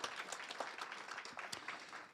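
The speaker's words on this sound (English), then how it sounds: "So let's give IFSI a big round of applause." An audience at a symposium applauds warmly, many hands clapping in a thick, continuous wash at moderate volume, sustained without pause for a couple of seconds.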